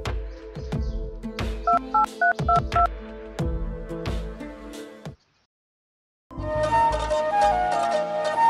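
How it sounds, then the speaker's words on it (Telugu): Telephone keypad tones beep in a quick series of dialed digits, loud and close, followed by a brief silence and then a ringback or ringtone melody. "రవికి ఫోన్ చేద్దాం."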